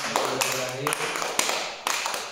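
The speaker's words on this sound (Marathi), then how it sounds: "प्रज्वलसाठी एकदा टाळ्या वाजवा." A handful of sharp, separate claps from young children in a first-grade classroom during a shape-finding maths game, close and uneven, with a teacher's voice talking in between.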